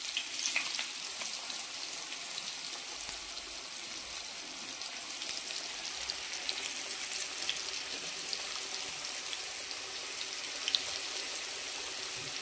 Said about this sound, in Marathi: मच्छीला कोट करून फ्राय करायचा।